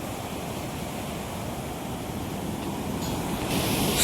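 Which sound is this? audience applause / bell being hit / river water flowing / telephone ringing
river water flowing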